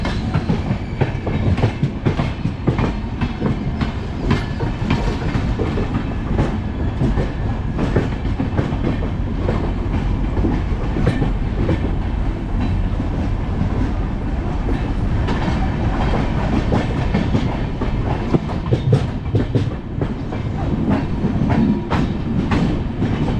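Ernakulam Duronto Express rolling onward after leaving Ratlam, a steady, loud train roar with continuous rail rumble and rhythmic clickety-clack of wheels over joints, carrying on throughout with no voices.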